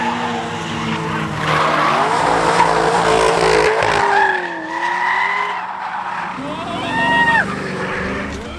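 A Toyota JZX90 drifts at night at Archfield Drift Park, its engine droning and rising in pitch as tires squeal in long, wavering screeches, loud and fairly close, with a voice talking over it.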